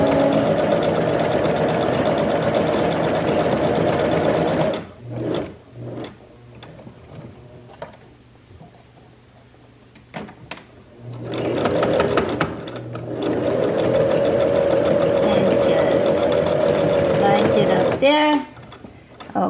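Sewing machine stitching fabric for a DIY gift project, a steady motor whir running in long bursts with a quieter pause midway and brief clicks, close and fairly loud, with a person speaking at times.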